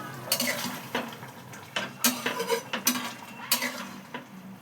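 Fried lentil dumplings are tipped into a pan of ridge gourd curry, with a spoon clinking and scraping against the metal pot in a run of quick, close knocks and stirs, no voices.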